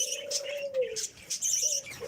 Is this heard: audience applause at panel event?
no